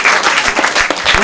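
A crowd applauds at a screening, a brief burst of continuous clapping with scattered distinct hand claps.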